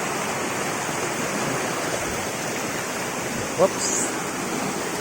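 Steady broadband rush of water flowing from a waterfall and stream outdoors, loud and continuous throughout, with a brief voice exclamation and a faint high chirp near the end.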